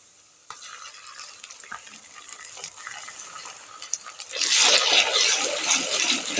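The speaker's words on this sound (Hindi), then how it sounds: "अब इसके अंदर हम ऐड करेंगे लहसुन अदरक का पेस्ट" Garlic and ginger paste hits a hot pan with a mild crackle and stirring, then swells into a loud, steady sizzle of frying close by.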